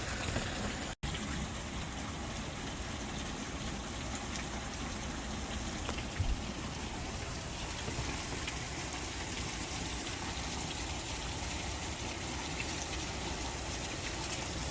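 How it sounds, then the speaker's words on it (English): Heavy rain pouring down outdoors, a dense, steady hiss of falling water that holds evenly throughout with no talking. "Yeah, heavy rains now."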